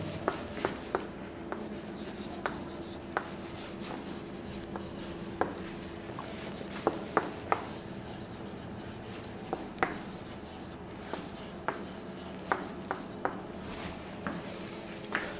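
A teacher writes on a classroom board with a continuous scratchy scraping and irregular sharp taps of the marker or chalk, heard up close over a steady background.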